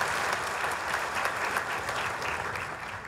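Audience applause at a Red Cross Society World Red Cross Day and volunteer recognition ceremony, a steady dense clatter of many hands clapping that holds throughout, easing slightly toward the end.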